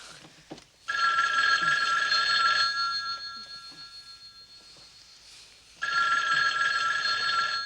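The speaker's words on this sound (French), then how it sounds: "le téléphone n'arrête pas" A telephone bell rings loudly in two bursts, the first lasting nearly two seconds and a second starting later, with quieter room sound between them and a brief knock before the first ring; the scene is set at night in 1978 Halloween horror.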